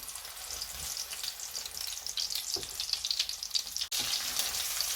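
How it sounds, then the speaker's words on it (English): Breadcrumbed chicken breasts shallow frying in a pan of oil give a steady, close crackling sizzle with busy popping spatter throughout, broken by a brief soft dip near the end. "when shallow frying your chicken breasts, we're only doing this to get a nice brown colour on the breadcrumbs"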